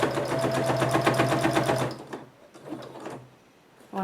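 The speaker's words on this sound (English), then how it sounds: "now I'm just going to sew the sides of my coupon organizer or money holder" A sewing machine stitches the sides of a fabric coupon organizer or money holder along existing topstitching, a close, rapid rhythmic chatter for about two seconds, followed by quieter handling sounds and a brief restart at the end.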